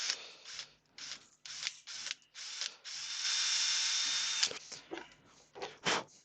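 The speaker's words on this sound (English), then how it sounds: "So we need our 5mm drill bit for this one." A power drill with a 5mm bit whirs in short on-off bursts, then runs steadily for about a second and a half as it bores through wood, close up, with no talking.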